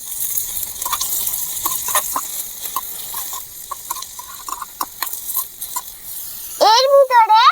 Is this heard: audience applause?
no